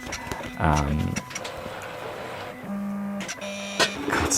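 An electronic cutting machine on an electrostatic mat cuts out stickers, giving mechanical whirring and tonal motor buzzes in separate bursts, close by and fairly loud.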